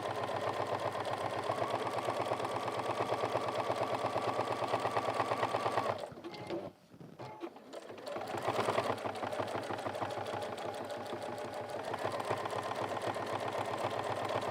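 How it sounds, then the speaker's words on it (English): A sewing machine runs in a steady rapid rattle while top stitching around the top of a one-piece go bag, pausing briefly midway before resuming at a constant pace. "I'm just top stitching around the top of the bag"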